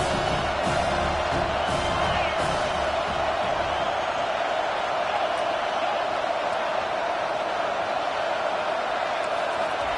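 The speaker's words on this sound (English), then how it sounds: "This crowd trying to make life miserable for this offense." A college football stadium crowd in the College Football 25 video game, Ole Miss vs Arkansas, cheers with a steady, dense roar that holds evenly loud for the whole stretch.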